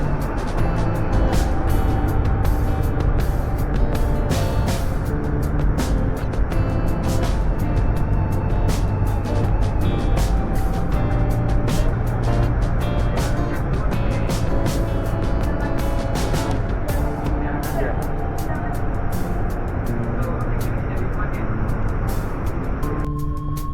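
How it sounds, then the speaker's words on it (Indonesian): Interior of a Whoosh high-speed train in Indonesia running at speed: a continuous loud rumble and rolling drone with steady road-like roar and occasional clicks throughout, no talk. "Kecepatan kereta bus ini bisa mencapai 340 km per jam dengan transisi pelan di awal, lalu akan semakin cepat sesuai dengan jalurnya."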